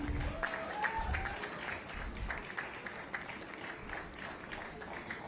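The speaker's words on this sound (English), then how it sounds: "Please continue applauding." An audience at a medical college convocation ceremony in Ahmedabad keeps up continuous applause, many hands clapping in a dense, even patter, with a voice briefly heard over it at the start.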